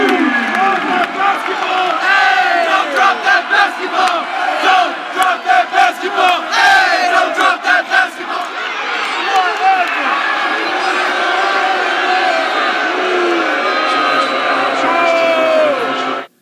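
Spectators at a team ball game cheering and shouting to urge their side to win the ball back: a loud, close crowd of overlapping voices with rhythmic chanted bursts, continuous throughout.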